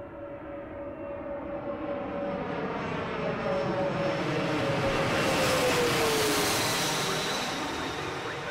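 A Piper Cherokee comes in to land at Bangor airport, a loud, steady propeller-engine drone that swells as it passes close overhead, with a slowly gliding pitch.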